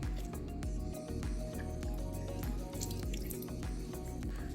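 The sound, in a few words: juice dripping from a squeezed lemon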